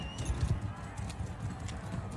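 Horses gallop in a joust in Mount & Blade 2: Bannerlord, with a rapid, steady clip-clop of hooves throughout and a faint voice in the background.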